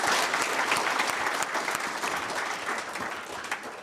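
Applause from the audience at an anti-corruption conference and general meeting, steady dense clapping from a large crowd that holds throughout and tapers slightly toward the end.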